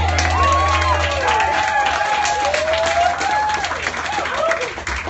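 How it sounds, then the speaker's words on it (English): A crowd at a concert venue in Asbury Park applauds and cheers for two performers, with dense clapping and whoops over a low hum and stray whistle-like tones. "give a round of applause for Gabriel and Haley"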